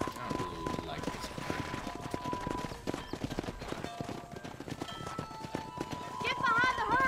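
Horse hooves gallop in a quick, steady clip-clop in Red Dead Redemption, close and continuous, with voices talking over the hoofbeats.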